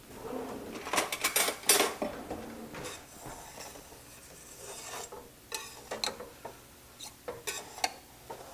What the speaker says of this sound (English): I'll take my cakes out of the cake pan